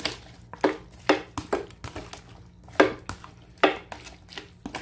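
Kinilaw squid with soy sauce and vinegar stirred in a bowl, a steady series of spoon clinks and wet scrapes against the bowl in an uneven rhythm, close and fairly loud.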